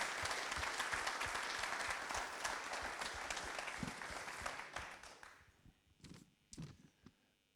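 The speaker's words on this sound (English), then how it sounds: "Can I give a big applause for Sven, Denise, and Roderick?" Audience applause at a network operators' conference quiz day, a dense sustained clapping from a crowd that fades out over several seconds, leaving a few scattered claps and knocks at the end.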